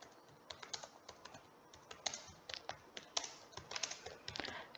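Fingers typing on a computer keyboard, a quiet close run of irregular clicks and taps with brief pauses between bursts of keystrokes.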